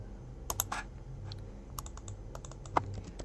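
Quick, irregular keystrokes on a computer keyboard during Figma dashboard design work, with scattered light clicks and a few sharper taps over a quiet room hum, no voice.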